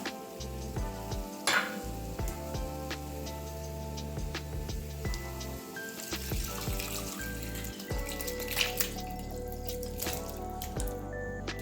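Beef frying in masala for a Palakkad-style beef dum biryani, a soft sizzle with small irregular drips and ticks from the pan, fairly close and steady, with no talking.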